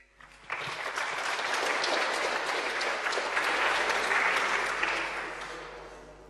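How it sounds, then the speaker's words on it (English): An audience at a hacker camp talk applauds its speaker, with sustained, even clapping from many people that rises quickly, holds for several seconds and then fades away. "please give a round of applause for our speaker"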